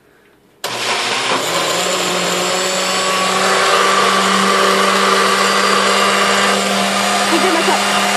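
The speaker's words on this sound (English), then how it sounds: "I'm gonna blend it." Blender whirring through a smoothie, switching on abruptly after a short pause and running loud and steady to the end, its pitch settling slightly as the contents blend.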